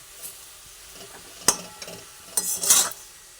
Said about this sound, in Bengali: একটু ভালোভাবে নাড়াচাড়া করে নিচ্ছি পুরো আমের মধ্যে কাশ্মীর লঙ্কার গুঁড়ো আর হলুদটা মিশিয়ে দিলাম